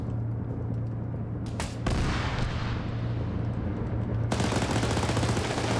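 Rapid automatic auto cannon fire in a military video game, heavy booming bursts over a constant low engine hum, loud and close without pause.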